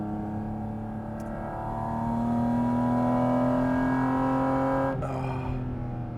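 A Porsche GT4 RS engine drones while driving at about 35 mph, a steady tonal hum that swells slightly as revs rise, then briefly dips at a gear change before settling; no talk.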